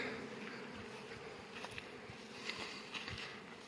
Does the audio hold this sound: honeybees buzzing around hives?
yes